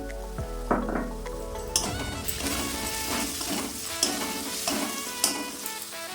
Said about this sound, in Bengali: মশলা থেকে তেল ছেড়ে এসছে, এর মধ্যে আমি কাশ্মীরি লঙ্কা গুঁড়ো, লাল লঙ্কা গুঁড়ো এবং হলুদ গুঁড়ো দিয়ে দিলাম।